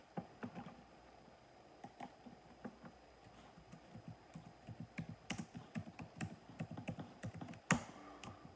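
Steady typing on a computer keyboard, rapid close key clicks in an uneven run with a few louder taps, no voices.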